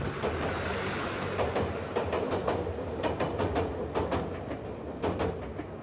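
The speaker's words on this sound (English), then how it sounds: "the blue train came back again" A blue Medetai train runs on the Kada Line near Wakayama, giving a steady rumble with rhythmic clicking of wheels over rail joints, heard at moderate distance without any voices.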